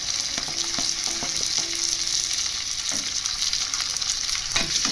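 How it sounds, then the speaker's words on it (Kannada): Ridge gourd frying in oil with onion for ridge gourd upma, a loud, steady sizzle with intermittent scraping and stirring knocks from a spoon in the pan, close up and with no talking. "ನಂತರ ಹೀರೆಕಾಯಿ ಹಾಕ್ಕೊತಾ ಇದ್ದೀನಿ."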